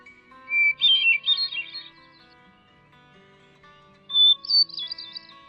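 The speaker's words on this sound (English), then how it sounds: "It's the hermit thrush, a small thrush with olive brown wings and back, a rust-colored tail" A hermit thrush sings two clear, fluting phrases, each a quick run of high whistled notes, separated by a pause, close and distinct over faint background birdsong.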